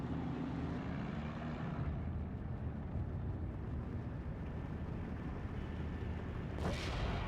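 Long Tom artillery firing at mortars in the Steel Division II war game, a continuous low battlefield rumble with a sharp blast near the end.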